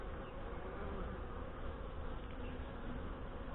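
Saskatraz honey bees hum in a steady, dense buzz from an open hive in northwest Wisconsin, close and unbroken for the whole stretch.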